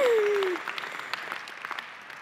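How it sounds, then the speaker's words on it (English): Audience clapping at a law school commencement ceremony: a steady, moderate patter that gradually thins and fades, with a brief voice at the very start. "Yeah, you can clap,"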